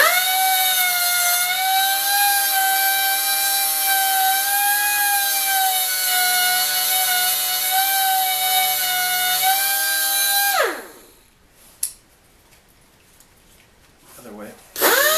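A power tool deburrs a part for a 420a performance engine build, giving a loud, steady high whine for about ten seconds before spinning down and stopping, followed by a few faint knocks.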